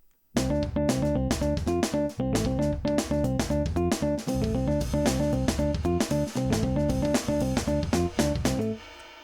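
A programmed drum part sketched for a progressive rock song plays dense and loud with steady kick, snare and cymbal hits. A pitched, tonal layer sits under the drums, and everything cuts off abruptly near the end.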